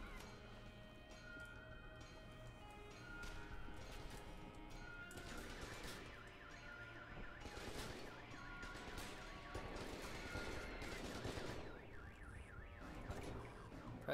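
Rapid automatic gunfire from the shooter game F.E.A.R. 2: Project Origin, faint and steady bursts over a low game soundtrack, with no talking.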